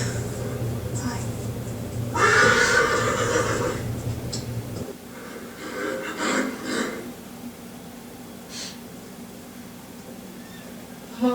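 A horse whinnies loudly in a drawn-out call, followed by softer snorts and breathy sounds close by.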